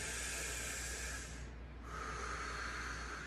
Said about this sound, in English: I'm gonna breathe in.